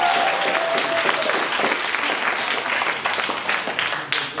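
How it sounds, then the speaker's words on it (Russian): A crowd at a Christmas solo boogie dance contest final claps for the next dance pair, loud close applause with some cheering, rising and falling slightly over a few seconds. "Аленка и Илья, ваши аплодисменты."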